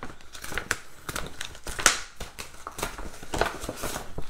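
Packaging opened and unwrapped during an unboxing: close crinkling, tearing and rustling of wrapping with sharp crackles and snaps in quick irregular bursts, with no speech.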